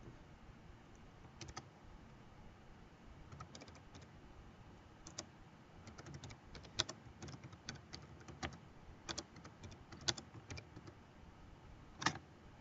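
Fingers type a tweet on a computer keyboard, quiet irregular clicks coming in short bursts and scattered taps, close and faint against a low hum, with no voices.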